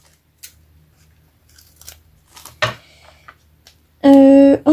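Scissors snip the edges of paper for a junk journal, a few sharp, close cuts spaced out over quiet, followed by a louder, sustained tone at the end.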